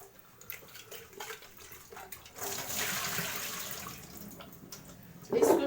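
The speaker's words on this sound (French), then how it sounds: "je veux rincer, voilà. Ça sera mieux" Water running from a tap while cassava that has soaked for three days is rinsed, a steady splashing rush that swells in the middle and ends with a brief louder splash.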